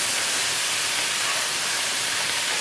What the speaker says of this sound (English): So we're going to stick these in here, like that, and start to saute those a little bit.